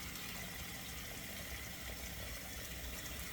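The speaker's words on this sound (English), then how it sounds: "I'm going to fill the sink." Tap water runs steadily into a sink for shaving lather, a constant faint hiss and gush with no change and no voices.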